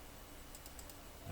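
Several quick, faint keystrokes tap on a computer keyboard in a quiet room, over a steady low hiss.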